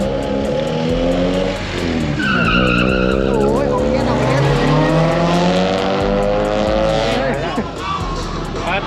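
Drag racing cars roar loudly at a Benzine Day drag racing meet, with squealing tires and revving engines sustained throughout while voices talk over the noise.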